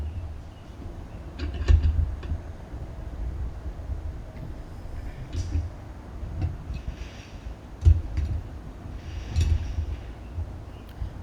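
A wrench tightens a spindle nut on a Spartan zero-turn mower while the other nut is held in a vise, giving sparse metallic clicks and clanks over a low mechanical rumble.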